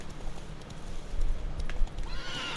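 Steady clip-clop of horse hooves at a trotting rhythm, with a low rumbling game-world background throughout, from The Witcher 3.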